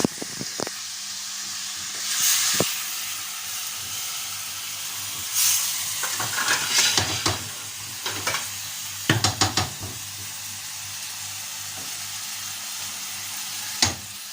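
Beef steak sizzling and bubbling in a covered pan, a steady loud hiss with bursts of crackling spatter and a few sharp clanks of a lid or utensil, close by, no talk.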